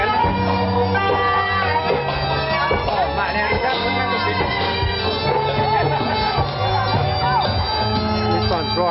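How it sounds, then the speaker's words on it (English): Dense outdoor crowd at a shadow puppet competition during King Rama 5 celebrations in Puknarm, Thailand, with constant loud hubbub of many voices over steady music and tonal chimes. "Those have got a big crowd."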